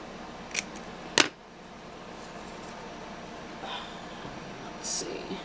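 Scissors snipping off gilt stamped edging in a quiet room, a couple of brief crisp cuts near the start, the second louder, followed by soft handling rustles and a faint later snip.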